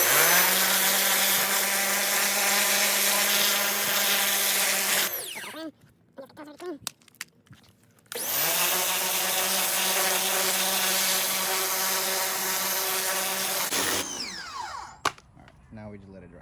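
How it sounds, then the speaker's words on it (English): A pressure washer sprays dirty ignition coil packs during a car valve cover job, a loud steady motorized whine running for about five seconds, cutting out briefly, then running again for several more seconds before stopping. "This is how I clean it with the pressure washer and just let it dry out."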